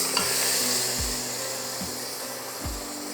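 Washed mutton pieces go into a pan of frying masala for a Kerala-style mutton curry, giving a steady sizzle with a few low scraping stirs of a spoon, close and alone.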